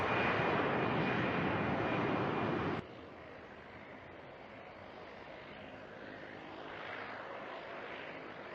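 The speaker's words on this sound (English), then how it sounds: "Here we can see the C-17 taxiing to the runway and preparing to take off and head to Ukraine." A C-17 military transport aircraft taxis toward the runway before takeoff, its engines a loud steady roar that abruptly drops to a lower, continuous rumble partway through, with no voices.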